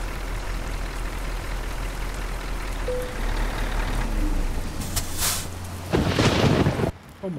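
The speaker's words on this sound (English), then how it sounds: "that was a big clap of thunder" A thunder clap crashes near the end of a run of steady truck engine rumble in Euro Truck Simulator 2, with a short beep and a loud broadband burst of thunder before it cuts off.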